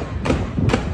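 Two sharp, heavy gunshots about half a second apart during a shooting at the Allen Premium Outlets mall in Texas, sounding muffled and thudding as if from a recording, over a steady background rumble.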